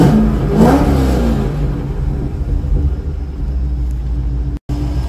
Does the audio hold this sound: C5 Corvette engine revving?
yes